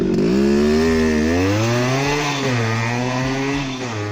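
A Yamaha RX100 two-stroke 98cc motorcycle engine revs loud and close, its buzzing rasp rising and falling through several throttle blips without a break, alone with no talk.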